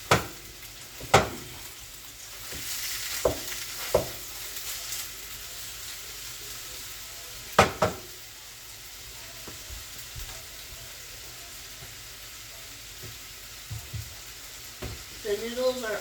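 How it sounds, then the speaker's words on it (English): Meat browning in a pan gives a steady low sizzle and hiss, broken by sharp clanks and scrapes of stirring and utensils against the pan at irregular intervals. "So we're looking to brown the meat."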